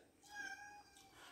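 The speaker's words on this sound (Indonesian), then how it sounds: "itu suara kucing" A cat meows once, fairly faint and brief, in a quiet room where people are eating a meal of salted fish, sambal and raw vegetables.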